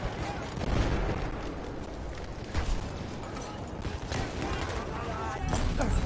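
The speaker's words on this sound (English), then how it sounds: "At parts like this, it's just literally nade spam." Grenade explosions in Battlefield 1 pile up in a chaotic barrage, dense blasts and gunfire layered over one another with bursts standing out, while a voice talks over the din.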